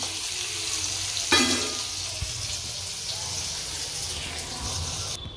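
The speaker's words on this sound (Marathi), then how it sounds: "लसूण पण फ्राय करून घेते" Garlic frying in a pan gives a continuous soft sizzle and bubbling hiss, with one brief louder sputter early on and faint stirring knocks throughout.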